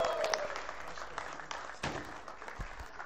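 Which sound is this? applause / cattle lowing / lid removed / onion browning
applause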